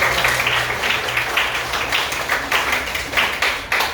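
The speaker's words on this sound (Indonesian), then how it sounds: "Tepuk tangan untuk jawaban kalian." A sixth-grade class claps their hands together in a classroom, a close, rhythmic patter of many hands that keeps a steady beat throughout with no voices over it.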